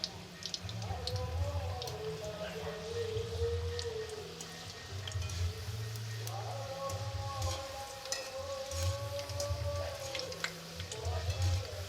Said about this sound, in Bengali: আমাদের নিমকি ভাজা দেখো প্রায় হয়ে এসেছে